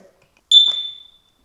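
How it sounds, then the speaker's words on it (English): A smoke alarm gives a single sharp, high electronic beep while being set up, loud and close, with a short tail that fades into silence. "press the top button until beep emits and the device starts flashing"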